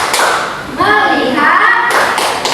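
A school class performs the 'tepuk fokus' clap chant, a burst of sharp rhythmic hand claps near the start and end, with children's voices chanting together in between.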